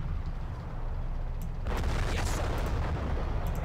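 Artillery fire in the WWII strategy game Men of War: Assault Squad: a low rumbling battlefield bed erupts into a heavier distant blast and crackling shots partway through, with a few sharp reports near the end, no talking.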